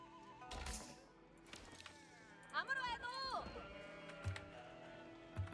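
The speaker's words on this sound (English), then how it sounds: "Got plenty of sheep back there." A sheep bleats once in a wavering cry in Age of Empires IV, amid faint game clicks and thumps, fairly close and clear.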